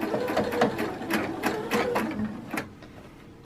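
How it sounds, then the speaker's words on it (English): Sewing machine running a straight permanent stitch along a basting line on a men's shirt being taken in, a quick rhythmic whirring with short bursts and pauses, close and moderately loud. "now I'm gonna go back and do a permanent stitch with a straight stitch"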